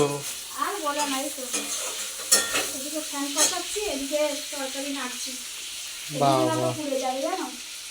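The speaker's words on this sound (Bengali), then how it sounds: "একটু নাড়াচাড়া করবো একটু ভেজে মেটে নেবো" Liver fries and is stirred in a pan with onions, a steady close sizzle with scraping stir strokes, while voices talk over it throughout.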